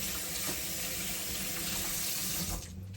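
Water runs steadily from a kitchen tap that is not heating up, a continuous close hiss that cuts off sharply near the end.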